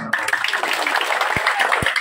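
Applause at a Balinese Pitra Yadnya ceremony performance of comic bondres theatre: a steady crowd patter of clapping, moderately close and sustained throughout, with a couple of low thumps and voices murmuring underneath.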